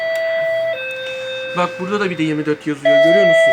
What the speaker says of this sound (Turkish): bu kanarya zillerimiz acayip yani odanın içerisinde bağırıyor yani